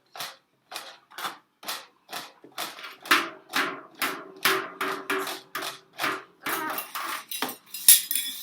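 Metal pans and spoons clank in a rapid series of sharp ringing strikes, about two per second, loud and close with no talking.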